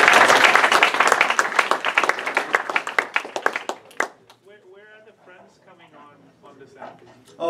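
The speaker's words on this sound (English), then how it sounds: "let's give first Brevo a round of applause" Tech meetup audience applauding the Brevo presenters, a loud burst of many hands clapping that thins into scattered claps and fades out after about four seconds, followed by a person speaking.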